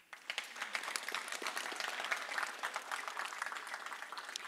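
Dense, steady audience applause fills a fire rescue academy class graduation ceremony, a loud crowd of overlapping claps holding evenly throughout with no break.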